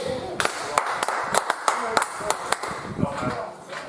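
A small crowd gives a round of applause for bowler Duffy at a cricket match between JHM Projects and Kelly's Irish Pub. The claps are scattered and distinct, with talking over them.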